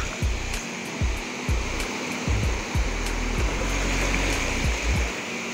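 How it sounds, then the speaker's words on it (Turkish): Slightly choppy sea washing onto a wide sandy beach, a continuous rushing surf with a steady roar and no voices. "Evet, deniz biraz dalgalı."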